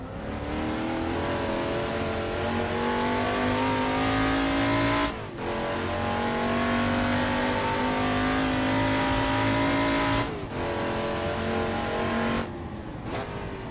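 Touring car legends racing on the Goodwood circuit in Assetto Corsa, a loud, sustained engine drone rising steadily in pitch through the gears, broken by brief gear-change dips, with other cars close by.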